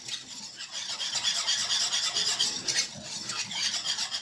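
A spoon scrapes and swirls around a bowl, stirring cornstarch to dissolve it for a quick no-bake chocolate dessert, a continuous close, raspy rubbing with uneven strokes.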